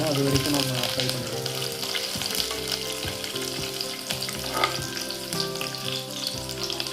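Onions and cashews deep fry in a pan with a loud, dense, unbroken sizzle and crackle that lasts throughout, heard up close.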